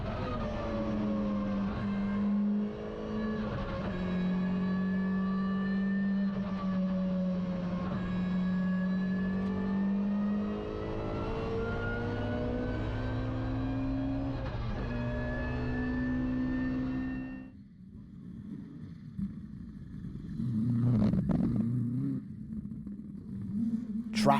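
A rally car on the Park Straight at the Cadwell Park circuit, recorded on board, holds a loud engine note that climbs through the gears for several seconds, then drops off sharply near the end.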